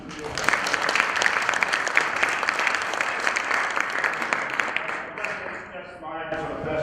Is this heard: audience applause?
yes